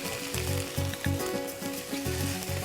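Vegetable korma sizzles steadily in a pan while being fried, with a constant crackle and a rhythmic scraping of stirring repeating about once every half second.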